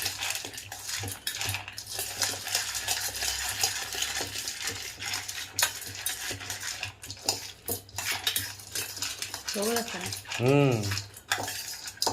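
Spiced chickpeas are stirred in a hot pan: a metal utensil scrapes and clatters against the pan over a soft underlying sizzle, with brisk irregular strokes throughout.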